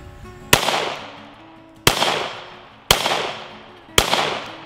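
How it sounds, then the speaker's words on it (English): Four sharp, loud shots from a Ruger 57 pistol with heavy muzzle blast, each crack followed by a short decaying echo, spaced about a second apart with no talk. "Has no recoil, but God, it's got some blast out that muzzle."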